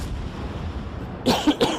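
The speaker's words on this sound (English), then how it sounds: "there's that cough again as well" After a moment of low background noise, a person coughs a few times in quick succession, close and fairly loud.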